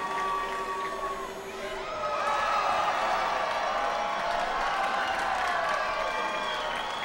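A high school basketball crowd at a Wolves–Cougars game in a gym roars and cheers loudly, with whoops, shouts and clapping swelling after a brief dip and staying intense throughout.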